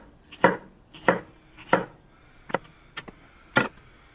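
Knife chopping Asian shallot and chilies on a board, sped up: six crisp, sharp chops in a quick, slightly uneven rhythm, close and clear against a quiet background.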